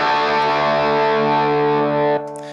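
An electric guitar chord, distorted through a treble boost on a BOSS GT1000 multi-effects unit, sustains loud and bright for about two seconds before being cut off abruptly.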